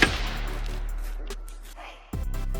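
A home security gadget fires out a burst of about 60 balls at once: a sharp blast followed by a rattling, scattering spray of hits that fades, then a second loud thump near the end.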